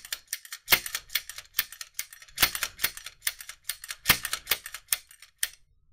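A Glock pistol slide is cycled over and over after cleaning and lubrication, giving sharp metallic clacks and clicks at an irregular rhythm, close and fairly quiet, with no talking.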